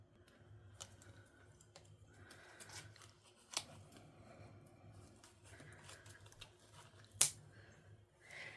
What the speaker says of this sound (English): Let me get the scissors so I can trim that zip tie off.